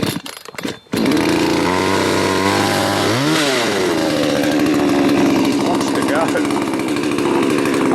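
Chainsaw sputters after a few pull-cord tugs, catches, revs up with a rising whine, then settles into a loud, steady idle close by, with a voice over the engine.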